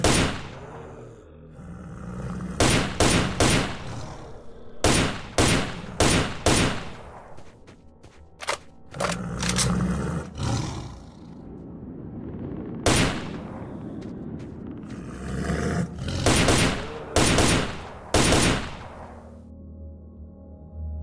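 Bursts of gunfire from the video game Stalker: Shadow of Chernobyl, shooting at zombies on master difficulty, loud rapid volleys and single shots in irregular clusters separated by brief pauses, with clattering between.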